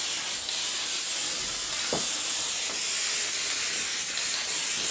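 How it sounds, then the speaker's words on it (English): Spray adhesive from an aerosol can hisses steadily onto quilt batting, a continuous close spray with small changes in intensity and no talking. "And I've always sprayed the batting because I feel that it adheres a lot more easily rather than on the actual quilt top."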